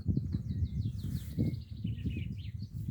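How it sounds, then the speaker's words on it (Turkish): Birds chirp and twitter faintly in the distance by Beyşehir Lake, Turkey, over a low, steady outdoor rumble, with quick repeated calls. "kuş sesleri altında"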